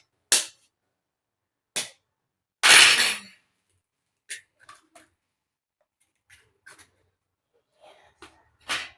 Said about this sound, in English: We're going to take the egg and crack it.